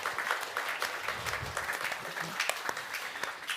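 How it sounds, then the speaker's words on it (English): An audience claps in a round of applause, dense scattered handclaps at a moderate distance sustained for a few seconds. "round of applause for being here"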